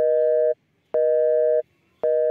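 A telephone busy tone sounds after a call is cut off: three steady, evenly spaced beeps, each about half a second long, separated by short silences. The tone is clear and close, with no voices.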